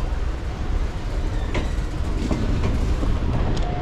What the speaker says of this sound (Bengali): এই হচ্ছে হাসনাবাদ লোকাল